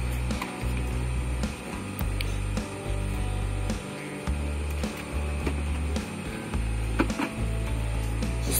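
An Epson L5190 printer scans a document, its mechanism humming and whirring steadily with repeated motor pulses and small clicks, close and fairly loud, with no talking.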